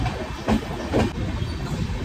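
A passenger train running from Kolkata to Ayodhya gives a steady, loud rumble with faint wheel clatter and brief swells. There is no talk.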